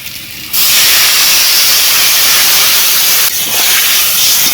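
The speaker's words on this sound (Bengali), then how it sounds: "বন্ধুগুলো এবারে দিয়ে দেব জল" Water splashes into a hot pan of potato and fish curry, setting off a loud, sustained steamy hiss that starts abruptly after half a second and dips briefly near the end before surging again.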